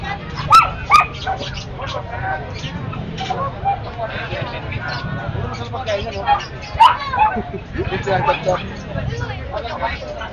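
Small dogs, including Pomeranians, yapping and whimpering at an outdoor pet market in San Jose del Monte, with repeated close, high barks over background chatter and people talking.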